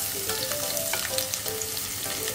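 Onion and garlic sautéing in a hot pan with oil, a dense continuous sizzle filling the whole moment with light stirring ticks on top; close and steady, no speech.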